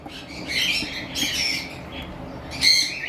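Lovebirds squawk in bursts at a bird farm, several sharp shrill calls near and fairly loud, spaced across a short stretch with low background noise.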